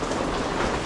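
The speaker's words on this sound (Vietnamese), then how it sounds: "Trời mưa vậy là lỗ rồi." Steady rain falls in Da Lat in June as an even, continuous hiss of drops on surfaces, fairly close, with no voices.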